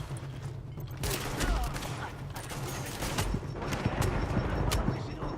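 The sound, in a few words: gunfire from a video game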